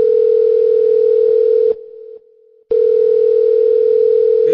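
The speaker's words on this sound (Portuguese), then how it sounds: "atende o telefone aí, tá te ligando aí" A steady telephone tone sounds loud and continuous, breaks off briefly for about a second, then resumes and holds to the end.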